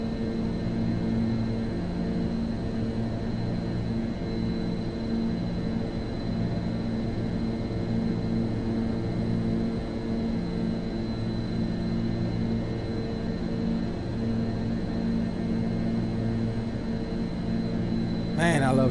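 Leonardo MD-82 airliner engines in Microsoft Flight Simulator 2024 during a climb toward cruise altitude, a steady loud cockpit drone with a constant high whine over low rumbling tones, continuous and unbroken throughout.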